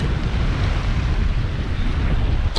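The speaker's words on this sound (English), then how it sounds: "this fucking wind" Strong wind on the banks of the River Humber buffeting the microphone, a loud continuous low roar with gusty rumble throughout, no clear voices over it.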